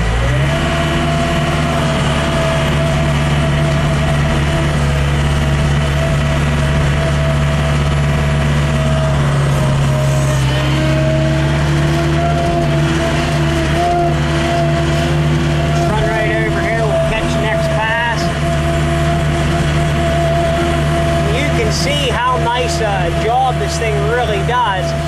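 A tractor pulls an FFC Sweepster Preparator 66-inch rock hound landscape rake through dirt, its engine droning steadily and loudly throughout, with some scraping and rattling near the end.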